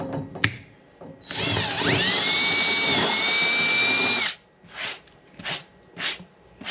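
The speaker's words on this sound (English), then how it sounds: "Make sure it doesn't crack when we drill through it." A power drill bores through a boat deck while fitting a low-profile tie-down bolt, spinning up and whining steadily at close range for about three seconds, then stopping, followed by a few short scraping sounds.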